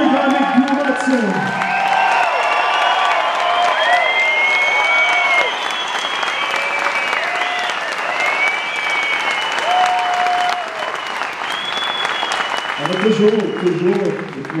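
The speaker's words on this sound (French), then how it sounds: "Je vous demande d'applaudir très, très fort, Madame Duramic Mouratine." A theatre concert crowd at a tribute show applauds loudly and continuously, with cheers and whistles rising through the wash of clapping, and someone speaking briefly at the start and end.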